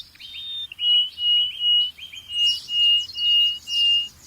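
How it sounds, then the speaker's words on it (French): Male bird singing its courtship song: a series of about eight bright, clear whistled notes repeated at an even rhythm, close and loud, with fainter twittering from other birds behind. "Les oiseaux n'ont pas accès à Tinder. Leur seule manière de se courtiser, c'est avec le chant."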